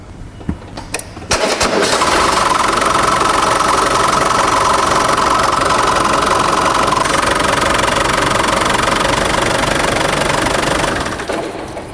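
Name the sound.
Land Rover diesel engine idling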